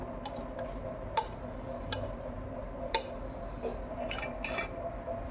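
Hilsa fish pieces are worked together with a coconut mixture in a bowl, giving faint wet squelches and scattered light clinks of utensil against the bowl over a low steady background hum.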